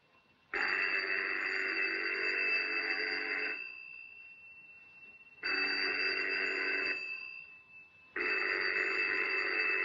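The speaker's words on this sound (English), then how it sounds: "That phone's been ringing for 10 minutes." A telephone rings in long electronic bursts, three sustained rings separated by short gaps, steady and fairly loud, with no voices.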